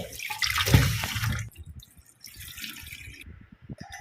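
Water sloshes and splashes briefly as finger millet (ragi) is rinsed by hand, followed by softer drips and small trickles in a quiet space.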